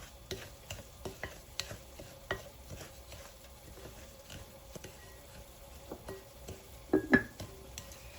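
A spoon stirs a Jamaican grits pudding mixture with salt and nutmeg in a pot, giving soft, irregular clinks and scrapes against the pot, quiet and close, with a couple of sharper knocks near the end.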